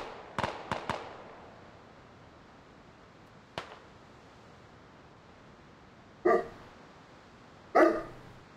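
A dog barks in a room: three quick yaps close together, a lone bark a few seconds later, then two longer, louder barks near the end, all against a quiet background with no speech.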